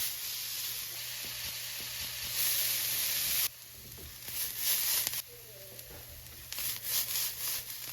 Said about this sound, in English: For the onions, I'm going for a medium-high heat for 2 to 3 minutes.